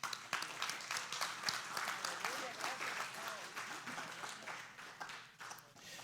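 A church congregation applauding steadily, many hands clapping together at a moderate distance, with the sound sustained throughout and tapering slightly near the end.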